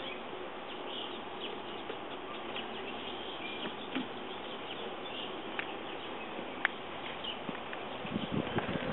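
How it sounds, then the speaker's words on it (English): Bees swarm around an open beehive, a dense continuous buzzing close by, with occasional small clicks and knocks, no voices. "Oh, there's a lot of bees."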